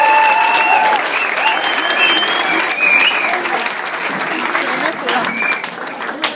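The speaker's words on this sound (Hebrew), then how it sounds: "תנו כפיים לאיש המופלא הזה." Loud, dense applause from a large crowd at a religious gathering, a steady wash of clapping that carries on for several seconds before easing slightly.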